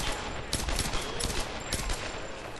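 Gunfire from a sniper in Tomb Raider (2013) at the Solari base, with a dense, continuous crackle of shots under a steady noisy backdrop and a few sharper bursts standing out.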